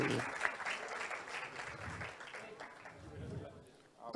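An audience applauds medical students at a gathering, a soft wash of many hands clapping behind a voice talking over the top, easing off near the end.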